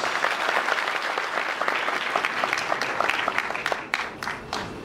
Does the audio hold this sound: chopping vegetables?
no